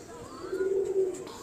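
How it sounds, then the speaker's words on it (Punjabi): A single pigeon coos in a soft, sustained call, close and clear against a quiet background, about a second long. "ਐਸਾ ਕਬੂਤਰ, ਕੀ ਬਾਤ ਹੈ।"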